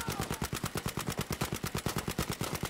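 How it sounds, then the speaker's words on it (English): Rapid automatic gunfire from Battlefield V, a steady burst of closely spaced loud shots with an even rhythm for the whole stretch. "we're both shooting at him, and neither one of us got him"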